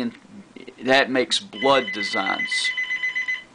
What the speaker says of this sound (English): excuse the phone, it's work trying to get me and I'm not going to answer today.